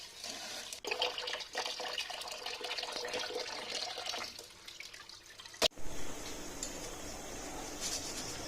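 Mung dal and polao rice rinsed under running tap water in a sink, a steady splashing wash with a sharp clatter midway, then a calmer trickle; no voices.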